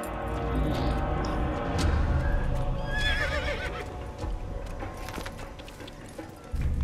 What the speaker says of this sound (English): Ooh, black horsey!